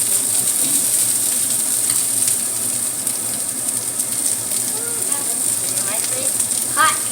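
Crispy tofu frying in a pan, a steady loud sizzle throughout with a few sharp pops of oil near the end.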